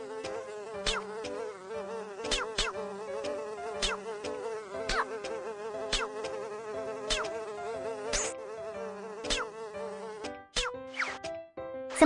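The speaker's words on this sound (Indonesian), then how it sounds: "Ada banyak sekali lalat." Flies buzz steadily in a dirty bathroom scene of a Baby Bus children's game, a continuous insect drone dotted with regular short clicks and chimes, with no talking.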